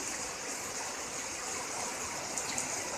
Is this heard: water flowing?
yes